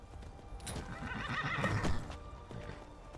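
A horse in a survival video game gives a loud whinny over steady clip-clopping hooves, the neigh rising and fading in the middle of the short stretch.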